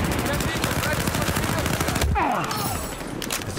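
Rapid automatic gunfire rattles in a multiplayer capture-the-flag video game, a dense stream of shots up close that breaks off near the end, while a voice talks faintly underneath.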